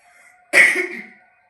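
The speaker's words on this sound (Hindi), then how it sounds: "हल्की हल्की सी खांसी भी हो रही है" One hoarse cough, close and fairly loud, trailing off into a short raspy breath.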